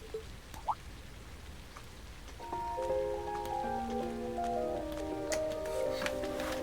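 Rain patters steadily on surfaces in a quiet scene of the video game Trails of Cold Steel, with soft musical tones rising over the rainfall partway through.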